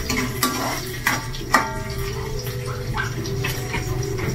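Fried rice cooking in a pan, a low steady sizzle with clanking and scraping of a utensil stirring against the pan at a few sharp moments, close and without talk.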